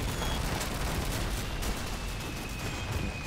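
Dense, continuous battle noise from Call of Duty 2, with gunfire blending into a steady roar at constant loudness and no talking.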